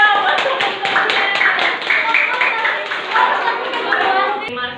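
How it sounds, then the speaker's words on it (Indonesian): A classroom of schoolchildren claps for classmates after a group presentation, brisk uneven clapping from many small hands, loud and close, with children's chatter mixed in, ending in a sharp tap. "tepuk tangan dulu ya buat teman-temannya"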